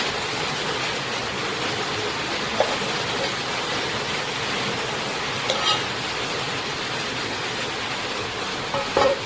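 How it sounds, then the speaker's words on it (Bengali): Jute greens bubble and sizzle steadily in a pot as fried fish is added, a constant hissing cooking noise with a few faint clinks of a utensil. "এখন গাইস আমি বেজে রাখা যে মাছটাই আছে সেই মাছটাই দিয়ে দিচ্ছি শাকের মধ্যে"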